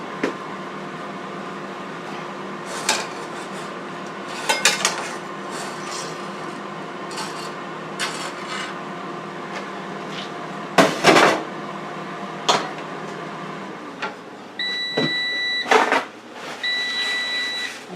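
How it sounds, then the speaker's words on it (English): Cooked Italian turkey sausages are set onto a plate, giving a few sharp clinks and clatters of utensils and dishware at scattered moments, with short electronic beeps, likely from the air fryer oven, near the end. "Let me put them on a plate, let you get a view."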